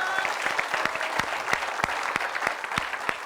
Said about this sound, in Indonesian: Tapi kita kasih tepuk tangan dulu dong.